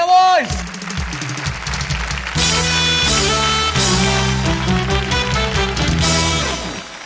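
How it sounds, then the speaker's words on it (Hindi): A studio audience claps loudly and steadily at a televised dance competition, the applause mixed under loud band music that swells and holds for several seconds. "और जोरदार तालियां"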